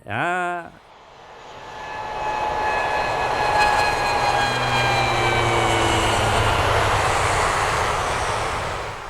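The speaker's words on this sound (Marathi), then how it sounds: "हा उडालं विमान. विमान उडाला." An airplane takes off and climbs overhead, its engine roar swelling into a loud, steady drone with rising whining tones that holds for several seconds after a brief voice at the start.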